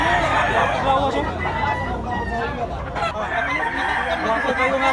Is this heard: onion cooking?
no